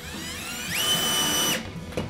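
A power drill with a driver bit whirs steadily, its pitch climbing as it drives a lag bolt and washer through a bracket, then stops abruptly, followed by a brief clunk.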